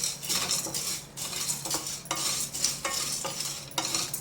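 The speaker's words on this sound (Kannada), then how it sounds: "ಬಾಣಲೆ 50 ಗ್ರಾಮ್ ಅಡಿಕೆನ ಒಂದು ಅರ್ಧ ಸ್ಪೂನ್ ತುಪ್ಪ ಹಾಕ್ಕೊಂಡು ನಾನು ಹುರ್ಕೊಳ್ತೀನಿ" Betel nut pieces, about 50 grams, roasting with half a spoon of ghee in a pan, heard as a steady scraping stir with repeated clinks of a spoon against the metal and a faint sizzle underneath, with no talking.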